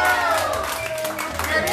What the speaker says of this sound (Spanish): Un aplauso para todos, a ver, un aplauso para todos.